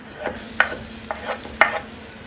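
Garlic and ginger dropped into hot ghee with cumin seeds give a soft, steady sizzle, broken by a few sharp spatters and stirring scrapes near the pan.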